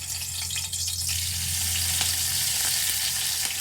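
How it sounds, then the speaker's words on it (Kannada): Curry leaves and garlic sizzle steadily in hot oil for a tempering, a dense, even crackle that stays loud and close throughout with no voices. "ನೋಡಿ ಕರಿಬೇವು, ಬೆಳ್ಳುಳ್ಳಿ ಸ್ವಲ್ಪ ಒಗ್ಗರಣೆ ಮಾಡ್ಕೊತೀನಿ"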